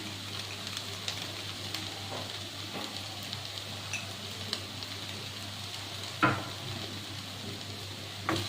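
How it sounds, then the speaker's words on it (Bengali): Prawns, potato and banana flower cooking in a pan, with garam masala just added, give a low, even sizzle close by, punctuated by a few soft scrapes and one louder knock of the spoon. "ভালোভাবে নাড়িয়ে নেব, ভালোভাবে মিশিয়ে নিচ্ছি আমি"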